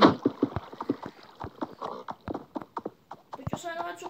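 Horse hooves clip-clop in Minecraft with a quick, steady rhythm of close, crisp knocks, and a voice briefly cuts in near the end.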